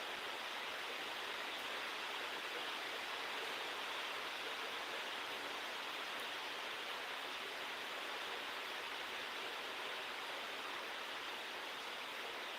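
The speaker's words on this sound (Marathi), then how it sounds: "पाऊस मस्त चालू झालाय बाहेर" Steady rain falls outside, a faint and even hiss of water that holds constant throughout, with no voices.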